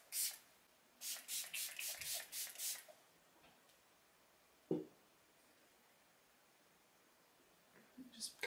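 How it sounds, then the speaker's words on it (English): Setting spray is pumped onto a face in a quick burst of about six short, close hissing puffs, followed by quiet with a soft tap and faint rustling. "I'm going to use this setting spray just to kind of set down that powder."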